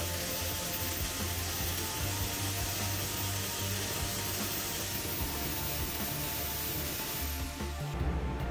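A cut glass bottle edge ground smooth on a grit 60 abrasive disc, making a steady, loud, continuous rasping whine that holds without a break and then winds down near the end.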